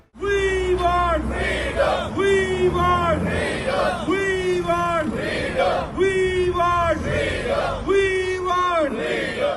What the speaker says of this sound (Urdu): اس موقع پر مظاہرین نے بھارتی حکومت کے خلاف شدید نعرے بازی کی۔